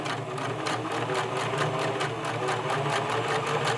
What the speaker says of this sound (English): So sew a few stitches, reverse a few.